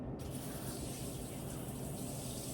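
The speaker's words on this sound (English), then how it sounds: "I'm going to rinse my hand off a little bit." A hand rinsed under a running kitchen tap, steady close gushing water splashing continuously throughout.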